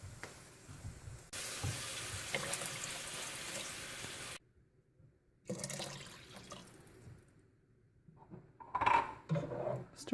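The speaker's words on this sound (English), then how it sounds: "you're going to fill it up with water and do 2 cans of water" Tap water runs into 8-ounce tomato sauce cans in a kitchen, in two separate fills split by a brief pause, followed by softer clinks and handling noises.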